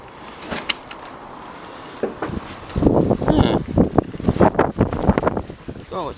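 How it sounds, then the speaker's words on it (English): Strong gale-force wind batters the microphone outdoors, rumbling in uneven loud gusts that build stronger partway through, with a voice briefly heard under it. "it's blowing a bloody gale today"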